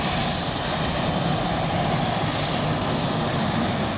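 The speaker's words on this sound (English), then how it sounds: "Its four General Electric TF-39GE1C turbofan engines give it a top speed of 540 miles per hour." A C-5 Galaxy military transport with four General Electric TF39 turbofan engines roars steadily, a loud, dense, unbroken engine drone filling the whole stretch without voices.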